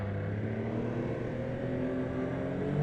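A 2024 Yamaha Sidewinder L-TX turbocharged snowmobile runs steadily on a trail, its engine droning loud and close with a sustained tonal hum that swells slightly toward the end, with no talking.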